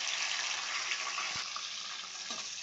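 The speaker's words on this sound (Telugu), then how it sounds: "బాగా వేపుకోవాలండి." A steady, loud sizzle of ginger garlic paste, cloves, cinnamon and tomatoes frying in a few spoons of hot oil for tomato rice, crackling continuously and close up with no voices.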